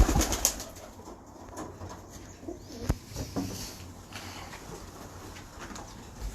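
Pigeons cooing softly in a loft, low murmuring calls close by amid scattered rustles and a few sharp knocks.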